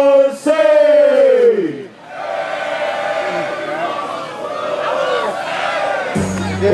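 Festival crowd at Sacramento Hempfest 2011 chanting back a rapper's call-and-response, a loud massed shout of voices answering a lead call, close and sustained with a brief dip midway.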